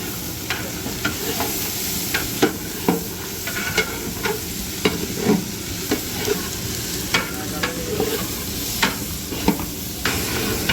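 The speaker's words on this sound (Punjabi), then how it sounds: "ਲੋ ਜੀ ਗੰਡੇ ਆਪਣੇ ਹੋ ਰਹੇ ਆ" Onions fry in a pan for paneer bhurji cooked in a langar kitchen, a continuous close sizzle broken by repeated scraping stirs, with no talking.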